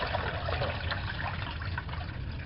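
Pork neckbones are rinsed under running water in a kitchen, a close, steady splashing trickle and gush that continues without pause, no speech.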